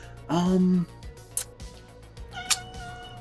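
A single drawn-out cat meow, close and clear, followed by quiet room noise with a couple of faint clicks.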